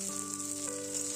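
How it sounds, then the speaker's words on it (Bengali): Chopped onions sizzle in oil over a cumin seed tempering, a steady soft frying hiss with a faint constant hum beneath it and no voices. "এবার কুচিয়ে রাখা পেঁয়াজগুলো জিরে ফোড়নের উপরে দিয়ে হালকা করে ভেজে নেব।"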